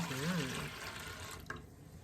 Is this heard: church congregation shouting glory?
no